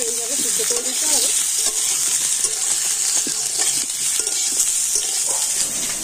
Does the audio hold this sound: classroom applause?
no